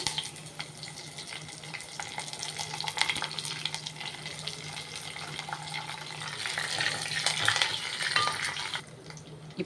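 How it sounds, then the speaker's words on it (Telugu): Dried red chilli and curry leaves sizzle in hot oil as a tempering for a South Indian tamarind curry, a steady close crackle with brief louder bursts near the end, then a sudden drop. "ఇప్పుడు ఒక ఎండుమిరపకాయ తుంపి వేస్తున్నానండి అలాగే కొంచెం కరివేపాకు"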